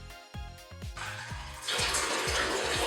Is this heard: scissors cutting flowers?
no